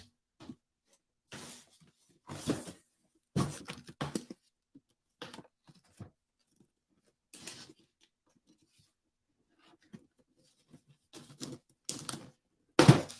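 Tape and very thick cardboard packaging being sliced open on a box, heard as scattered bursts of scraping, ripping and crackling separated by quiet gaps, close and fairly loud.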